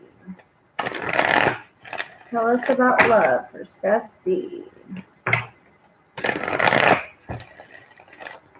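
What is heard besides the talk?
shuffling tarot cards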